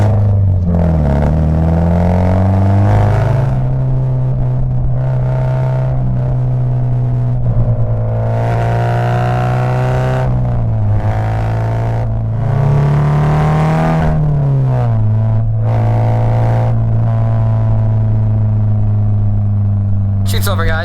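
A loud car engine drones steadily while driving, pitch rising and dipping with throttle changes, close up and continuous throughout.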